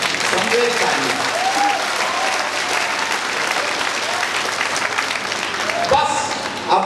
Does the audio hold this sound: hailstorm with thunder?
no